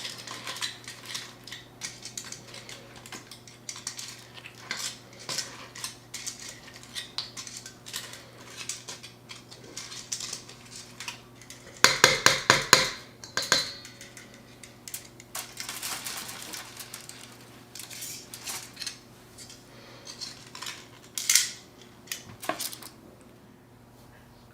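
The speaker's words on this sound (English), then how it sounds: "So we're just going to take them and throw them into the sauce and mix that around until they're all really well coated." Chicken wings for pub-style wings, tossed in sauce in a bowl after pressure cooking in an Instant Pot, giving intermittent clinks and scrapes of utensil against dish with a brief louder clattering burst midway, close and with no talk.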